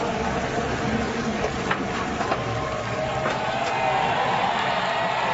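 A NASCAR race crowd applauds and cheers for driver Timothy Peters as he climbs out after a truck flip, a steady, dense roar of clapping and voices from a big grandstand, with some speech over it.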